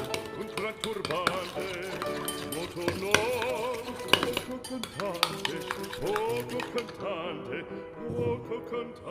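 A utensil stirs monk fruit sweetener into a mixture for keto tiramisu, making repeated close clinks and scrapes against the bowl over a constant stirring swish, with a voice talking faintly underneath.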